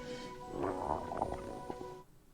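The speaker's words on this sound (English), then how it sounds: "Hungry? It's your stomach growling." A stomach growls in a film scene, a low gurgling rumble lasting a couple of seconds, fairly quiet and close, with no talk over it.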